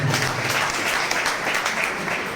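A live audience at a business seminar claps hands in a steady, dense patter that holds evenly throughout, fairly loud and close.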